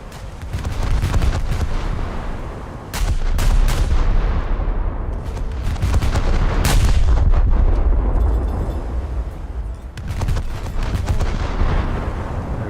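Naval guns of a German battleship fire in a World of Warships game, booming in repeated heavy salvos with rumbling echoes, loud and close, with several sharp blasts standing out across the sequence.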